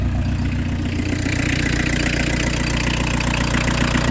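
A PSA XUD diesel engine fitted with an inline injection pump runs close by, a loud, steady, clattering idle with a tractor-like knock throughout, no speech.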